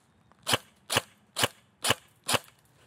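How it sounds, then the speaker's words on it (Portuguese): Five sharp, evenly spaced shots from a Rossi Neptune 10" Plus airsoft rifle on an 11.1-volt LiPo battery firing semi-automatic, each a crisp snap with a brief tail and quiet between them. "Disparos no semiautomático."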